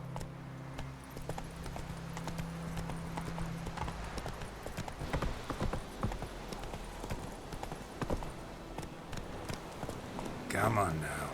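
Roach, the horse in The Witcher 3: Wild Hunt, runs with a steady clip-clop of hooves near a former Nilfgaardian campsite. A voice talks over part of the hoofbeats, and a louder burst comes near the end.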